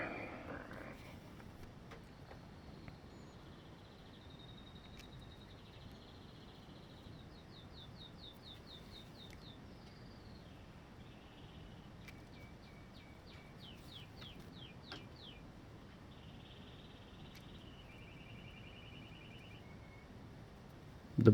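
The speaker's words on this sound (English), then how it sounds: "The bird is happy." Small songbird singing repeated bright trilling phrases and chirps in bursts, moderately near, over a steady low background hum, with no talk.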